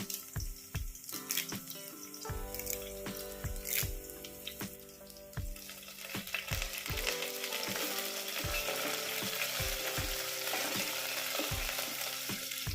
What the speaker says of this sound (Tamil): வெங்காயம், வரமிளகா, கருவேப்பிலை எல்லாம் நல்லா வதங்கிருச்சுங்க.